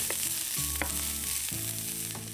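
Garlic and pepper flakes frying in a pan give a steady, close sizzle that runs without a break, with faint clinks of a utensil against the pan over the top.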